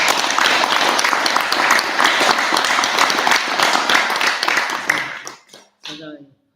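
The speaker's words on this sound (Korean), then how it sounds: "못 나오고 있는 분들을 위해서 박수 한번 쳐주세요" Audience at a Korean Buddhist temple talk clapping together in dense, sustained applause that fades out toward the end, with a few scattered claps and a voice heard at the close.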